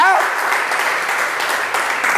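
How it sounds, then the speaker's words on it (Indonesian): Church congregation cheering and applauding, a steady wash of clapping and voices lasting a couple of seconds, with a voice audible over the crowd at the start. "Berikan sorak-sorai buat Tuhan."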